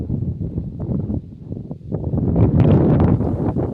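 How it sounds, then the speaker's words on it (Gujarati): Steady wind blows across the microphone, a low rumbling rush that swells louder in the second half with gusty buffeting. "પવનનો અવાજ આવતો"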